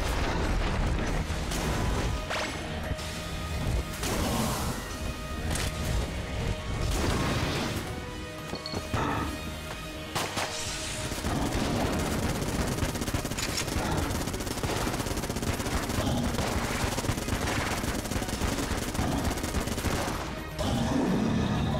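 Charge-shot gunfire from Enter The Gungeon, loud and dense, with bursts of rapid shots, crashes and impacts layered over game music for the whole stretch.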